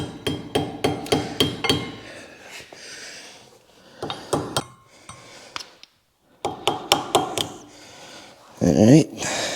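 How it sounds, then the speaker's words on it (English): A small hammer striking parts while greasing the wheel bearings on a Can-Am Maverick X3: sharp, close metallic taps in quick rhythmic runs, broken by brief pauses. "I guess I'm gonna grab a little hammer or something"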